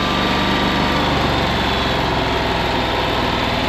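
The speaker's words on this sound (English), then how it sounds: "the engine's running really, really good" A John Deere Z910 zero-turn mower engine runs steadily at close range, a loud, even drone with a low pulsing throb that holds constant for a few seconds with no voices.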